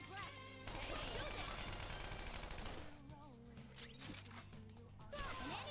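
Gunshots and an explosion from the battle game Persona 5 Royal come through as a dense clatter of shots and crashing impacts, laid over continuous game music, with a sharper burst near the end.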